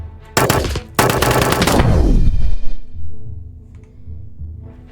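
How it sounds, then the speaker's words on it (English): A machine gun fires in the video game TABS in two fast, loud bursts of rapid shots. They fade into a rumbling tail and then a quieter background. "Executing prisoners of war with a machine gun"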